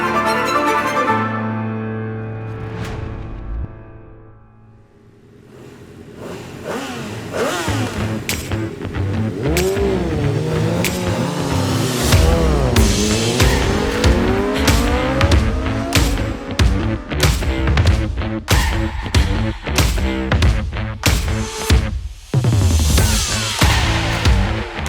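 Racing motorcycles at the Manx Grand Prix road race tear past at high speed, engines howling and shifting pitch as they approach and pass. Repeated loud passes follow a short quieter lull, with no talk.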